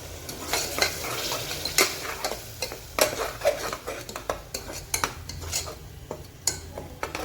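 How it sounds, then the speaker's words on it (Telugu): Onion paste sizzling in a hot pan with turmeric for a pepper mutton curry, a steady crackling fry under repeated scraping strokes of a metal spoon, close and loud, with no voices. "ఈ ఆనియన్ పేస్ట్ బ్రౌనిష్ కలర్ వచ్చే వరకు కొంచెం వేపుకుందాం"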